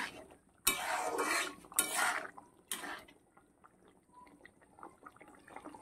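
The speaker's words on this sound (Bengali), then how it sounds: "ঢাকনা খুলে দেবো" A lid comes off a pot of simmering potato and fish curry, close up: three sharp metallic clanks and scrapes in quick succession, then faint kitchen sounds.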